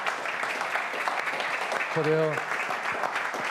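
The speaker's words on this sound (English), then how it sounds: "please give big applause to our panelists" Audience applause for the panelists at the close of a ROK-NL Forum 2025 panel discussion, a steady broadband clatter of clapping running throughout with someone speaking over it.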